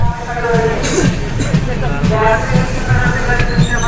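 A century-old passenger train running on rails between Kolkata and Ayodhya, loud and close, with rhythmic clickety-clack wheel beats over a rumbling hum. Voices murmur in the background.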